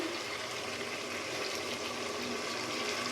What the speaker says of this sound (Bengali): একটু পানি দিলাম